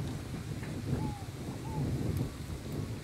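Wind blows outdoors in a rural countryside setting, a steady low rumbling gust noise buffeting the microphone throughout, with a couple of faint distant tones over it.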